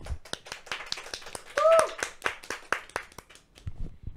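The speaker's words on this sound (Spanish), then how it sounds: "Despedimos a Alejandra Villegas con un fuerte aplauso." Audience clapping on a Catholic talk show farewell, a run of distinct, separate hand claps with a voice speaking briefly in the middle.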